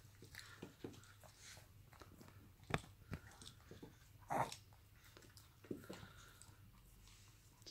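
A dog chews a piece of cheese close by, with irregular wet bites and crunches over a low steady hum and no talking.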